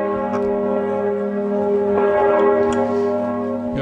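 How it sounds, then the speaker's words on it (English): A ringing bell tone sustains with a rich stack of harmonics, struck again a few times and echoing steadily over a quiet room. "You have been saved from the bells, you know."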